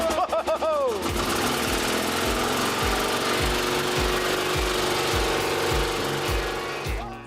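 An old bulldozer's engine is rope-pulled and catches, then settles into a loud, regular thumping beat that continues to the end, with brief talk at the start.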